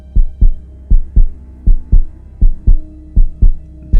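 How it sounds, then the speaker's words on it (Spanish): A loud, close heartbeat sound effect repeats in a steady lub-dub rhythm, with eight double thumps and no voices. "Y entonces escuchó su corazón."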